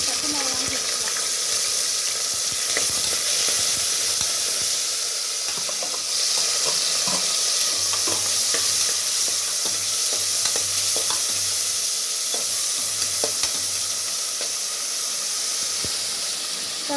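Onions, tomatoes and green chillies frying in a pan for a vegetable and mutton kulambu, a steady broadband sizzle with scattered stirring clicks, close and fairly loud, continuous throughout with no talk.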